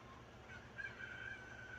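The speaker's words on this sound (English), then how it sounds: "Get out of here, chicken." A chicken in a video game gives a faint, thin, drawn-out cry over a low steady background hum, quiet and alone without talk.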